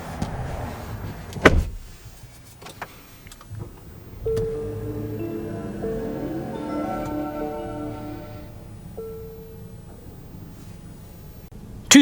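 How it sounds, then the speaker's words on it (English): A power-adjustable steering wheel in a 2025 Nissan Murano Platinum moves with a smooth electric motor whine lasting several seconds inside the quiet cabin, preceded by a couple of soft clicks and ending in a brief thump. "Steering wheel, power adjustable."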